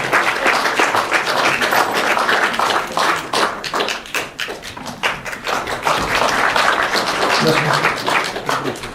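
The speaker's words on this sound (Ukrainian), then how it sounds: "є аплодисменти" An audience applauds at a taxpayer award ceremony, dense clapping that runs throughout at close range, with individual sharp claps standing out and voices speaking partly over it.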